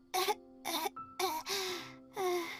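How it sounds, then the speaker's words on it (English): Four separate coughs or throat-clearing bursts come at an uneven rhythm, close and fairly quiet, each short and raspy, with no talking between them. "What the fuck was that cough?"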